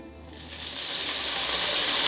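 Water poured into a hot pan with butter and the browned fat and bits left from pork chops bursts into a loud, building sizzle that spreads and holds, close and alone without talk.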